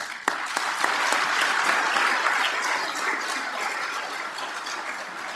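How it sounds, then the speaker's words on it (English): At a fire academy graduation ceremony, the standing graduates give their families a round of applause: a dense, even wash of many hands clapping that holds steady and then slowly tapers. "Turn around, look at your families, give them a round of applause."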